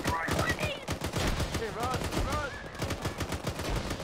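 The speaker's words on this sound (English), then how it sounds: "get out and start shooting" Rapid bursts of automatic rifle and machine-gun fire ring out during a military shooter game (Arma 3), sustained and dense, with voices and radio chatter woven in between the shots.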